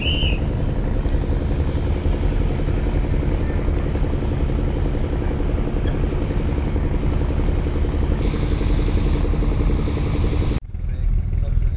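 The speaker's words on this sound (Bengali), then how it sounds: "চরমোনাই পল্টনে আসলো আরও একটি লঞ্চ, কর্ণফুলী 1 লঞ্চ" The Karnaphuli 1 passenger launch arrives at Charmonai with a loud, steady engine drone that holds constant, dropping briefly near the end. Voices murmur underneath.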